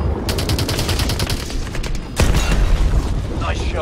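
Call of Duty: Advanced Warfare combat: a rapid burst of automatic gunfire rattles for nearly two seconds, then a loud, heavy blast follows over a dense battle din.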